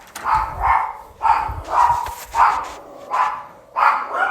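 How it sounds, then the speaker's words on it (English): Several dogs bark repeatedly in the background, a steady run of sharp, mid-loud barks spaced about half a second apart with no talking over them. "if you guys hear the background of dogs barking"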